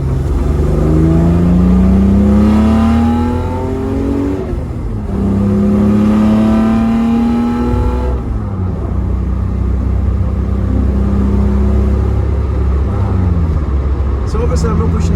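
Car fitted with a Thrush 17715 Turbo muffler on a Z-Story race/sport manifold with centre resonator, accelerating from around 2,000 rpm with a deep droning exhaust note that climbs in pitch through two pulls, loud and close, then settles into a steady rumble.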